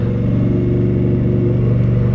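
Motorcycle engine pulls steadily through its power band while lane splitting in traffic, a loud, continuous mid-pitched drone with a rising hum and no break.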